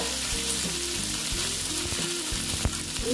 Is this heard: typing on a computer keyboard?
no